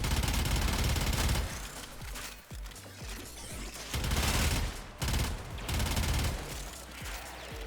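Rapid gunfire from a gun in the game Warframe roars in long, loud sustained bursts with brief gaps between volleys.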